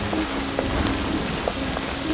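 Steady rain falling, a continuous hissing patter on surfaces with occasional heavier drops standing out, close and even throughout with no voices.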